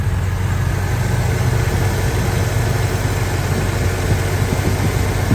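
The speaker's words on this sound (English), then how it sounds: "Let's take a listen to the engine." A 1968 Pontiac Firebird engine runs at a steady idle, a loud, even, continuous low rumble with no talk.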